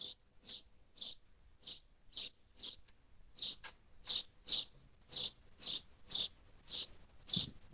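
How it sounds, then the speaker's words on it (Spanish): A small bird chirps alone in a steady series of about fifteen short, sharp high tweets at roughly even intervals, fairly close and clear against a quiet background. "Se escucha el pajarito nada más"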